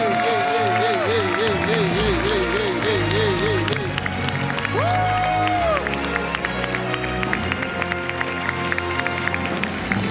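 A stadium crowd at the Stockholm Major esports tournament cheers and applauds in a loud, continuous roar, with sweeping musical tones and a voice mixed in.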